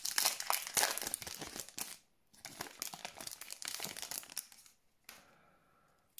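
Foil packs of 2018 Topps Platinum Premier League trading cards are torn open up close, with loud crinkling and ripping in bursts, a short pause, more tearing, and then a quieter rustle at the end.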